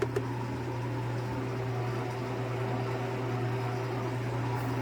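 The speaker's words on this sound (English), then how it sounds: "Going into the freeze dryer." A Harvest Right freeze dryer runs with a steady mechanical hum and a strong low drone, unbroken throughout, like an appliance motor and compressor working nearby.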